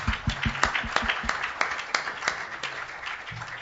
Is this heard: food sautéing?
no